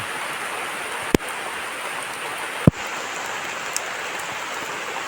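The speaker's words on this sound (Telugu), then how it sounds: "మళ్ళీ వర్షం అయితే పెద్ద అయిపోయింది ఈ వర్షంలో బలి అయిపోయా" Steady rain falling, a dense even hiss of drops with two sharp knocks standing out partway through.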